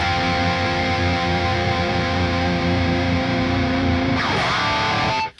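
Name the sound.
electric guitar through Graphene pedal with more gain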